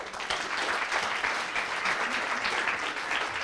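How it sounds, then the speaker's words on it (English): An audience at a university entrepreneurship evening gives a steady round of applause, dense continuous clapping throughout with no pauses. "let's give a big round of applause"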